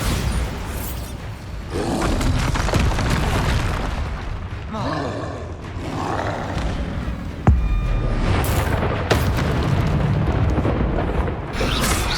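Spell explosions and magical combat in the Hogwarts Legacy video game, with dense booming, rumbling bursts and a sharp impact midway, layered over continuous loud game effects.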